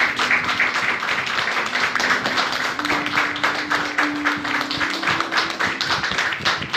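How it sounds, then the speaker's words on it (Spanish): Congregation clapping in a church service, dense rhythmic hand claps filling the room steadily, with a sustained tone underneath. "Denle un aplauso al Señor"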